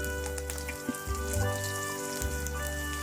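Chana dal, dried red chillies, peanuts and curry leaves frying in hot oil, giving a steady close sizzle with soft crackles and brief pops.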